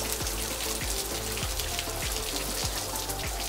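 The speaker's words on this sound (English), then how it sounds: "It has not stopped raining at all." Steady hurricane rain patters continuously on a surface in Florida, dense and even, with no voices.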